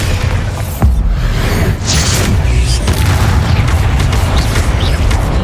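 Bombarda spell blasts in Hogwarts Legacy during a spider fight, with booming explosive bursts over a dense, rumbling combat mix of effects and music, loud throughout.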